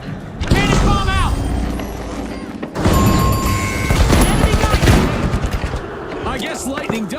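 Loud booming cannon bomb blasts and rapid gunfire crash through a chaotic battle in the video game The Finals, with heavy impacts and explosions layered over excited voices.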